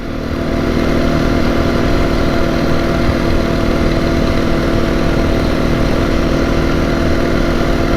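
A 2022 Beta 430 RR-S motorcycle engine runs loud and steady while riding, a constant close buzzing drone with no breaks.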